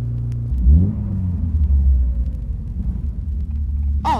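A car overtakes on the road on a stereo test record, a low rumbling engine passing close, steady and loud, with a brief higher sound at the very end.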